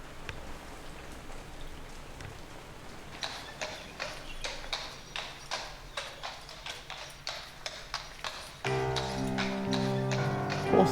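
Horse hooves clip-clop steadily in the point-and-click horror game The Last Door Season 2, a regular run of moderately loud hoofbeats over a rain-like hiss, ending in a louder, busier wash of sound.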